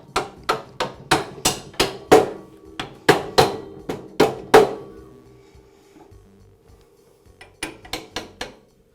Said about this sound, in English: tap the pin the rest of the way through